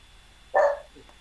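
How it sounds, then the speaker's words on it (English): A dog gives one short, sharp bark at middle distance over a quiet room hum, followed by a faint softer sound. "Sorry about the dog."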